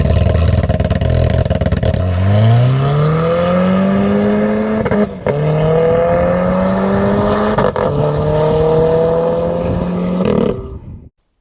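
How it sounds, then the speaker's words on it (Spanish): Exhaust of a Renault Clio RS Trophy with a 1600 16-valve engine, loud and close, revving up through several gear changes with short breaks between pulls before cutting off abruptly. "¿Cómo suena este escape?"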